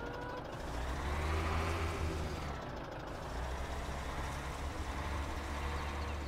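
A big tractor maneuvers in a farming simulator game on the Gorzkowa farm map, with steady engine rumble throughout and repeated high reversing beeps at about half a second and again near three seconds.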